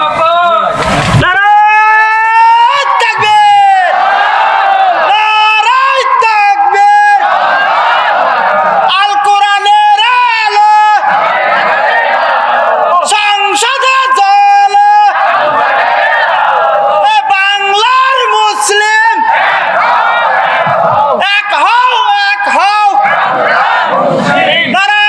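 A large crowd at an outdoor Bangladeshi Islamic sermon gathering loudly shouts the takbir chant in unison, with repeated call-and-response bursts over a loudspeaker filling the whole stretch.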